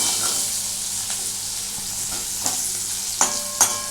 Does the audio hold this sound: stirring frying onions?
yes